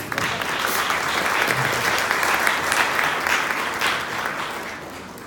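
An audience at a community presentation in Ibirité, Minas Gerais, applauds in a sustained, loud burst of clapping that holds steady for several seconds before easing slightly at the end.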